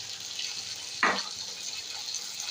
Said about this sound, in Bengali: এর মধ্যে পোস্ত 4 চামচ মতো পোস্ত বাটা জলটা দিয়ে দেবো।